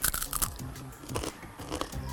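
Crisp saha chips made from banana trunk being bitten and chewed up close, a run of sharp, brittle crunches in quick bursts with brief pauses between them.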